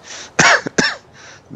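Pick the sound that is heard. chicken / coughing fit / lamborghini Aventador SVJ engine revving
coughing fit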